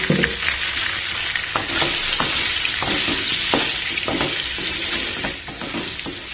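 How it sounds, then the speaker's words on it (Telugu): Chopped onions with salt and turmeric fry in a pan, giving a loud, continuous sizzle broken by repeated spatula scrapes and taps as they are stirred, with no voices. "సాల్ట్ వేసుకుంటే ఏంటంటే ఆనియన్ కొంచెం త్వరగా ఫ్రై అవుతుందండి సో అందుకని ఇవన్నీ మిక్స్ చేసేద్దాం"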